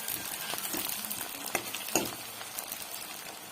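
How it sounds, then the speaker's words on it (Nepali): Onions fry in a pan for soya chilli, giving a soft continuous sizzle broken by a couple of sharper stirring scrapes, close and without speech. "अब चाहिँ यसको लागि मैले यहाँनिर हाल्दैछु प्याज त एकछिन पकाउनु पर्यो।"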